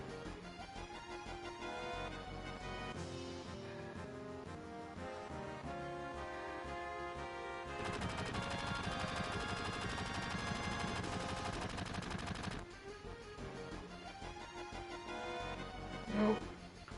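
Rapid bursts of gunfire rattle out over a dense soundtrack in Final Fantasy VII, growing heavier and louder through the middle before easing back under the music.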